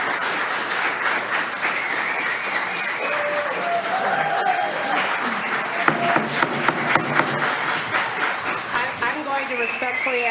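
An audience at a Highland Park city council meeting breaks into loud, steady applause and cheering, with a few whistles rising above the clapping and voices mixed in throughout.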